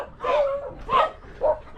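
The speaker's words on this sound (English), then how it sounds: "Get past the dog before we continue." A dog barks three times in quick succession, close by and moderately loud, with short yelping barks spaced about half a second apart.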